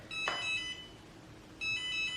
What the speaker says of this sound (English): you will notice an alarm going off